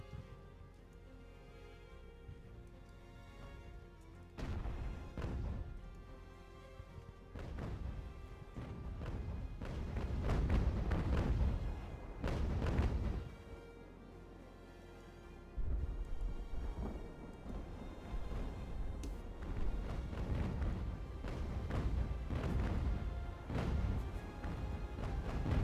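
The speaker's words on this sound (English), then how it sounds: "I'm going to use these two artillery to try to take that one out" Naval-era artillery in Ultimate Admiral: Age of Sail fires in a series of deep, rumbling booms that roll like thunder, each burst swelling and fading over a steady low background, with no talking.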